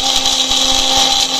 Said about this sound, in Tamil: இப்போ இதை வந்து மிக்சியில் மாட்டிக்கிடுவோம்